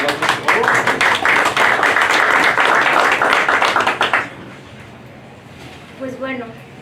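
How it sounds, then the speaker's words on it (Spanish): An audience at a public training session claps in a loud, dense burst for about four seconds, then the applause cuts off abruptly, leaving a quiet room where a voice briefly starts speaking. "Un aplauso, por favor."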